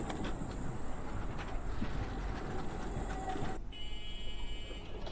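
A train runs in a video game with a steady, continuous rumble and clatter, moderately loud. The tone shifts partway through as a brighter mechanical whine joins.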